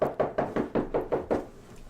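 Knuckles knock on a door in a steady run of about eight firm, evenly spaced raps, close and fairly loud, with no one speaking.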